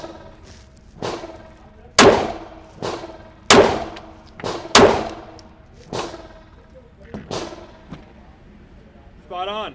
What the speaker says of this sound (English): Glock 45, 9mm. Okay. Backup gun. Haven't shot this in a while. Let's see how it rolls. We'll go 5 shots into target 3.